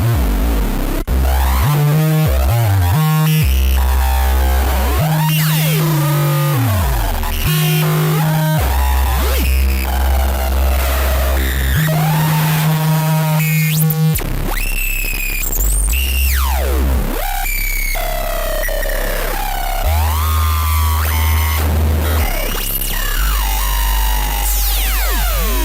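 A heavy bass synth plugin churns out gruesome, distorted low tones, loud and dense, with sustained bass notes shifting in pitch under gritty upper layers for the whole stretch.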